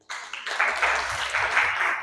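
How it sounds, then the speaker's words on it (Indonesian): Applause for a school project group in a classroom, a short burst of clapping from a small group that starts abruptly and holds steady for about two seconds. "tepuk tangan untuk kelompok ini"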